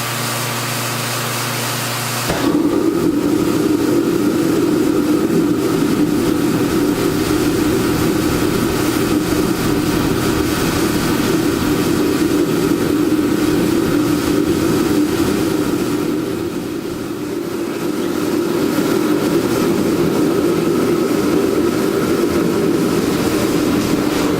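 A torpedo heater fires up after a quiet moment and roars into a steady, loud, continuous blowing hum, which dips slightly partway through and then keeps running.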